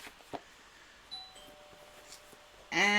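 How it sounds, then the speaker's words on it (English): A doorbell rings indoors with a clear, fairly loud two-tone chime that rises at the end after a quiet stretch with a few faint clicks. "And that is my doorbell"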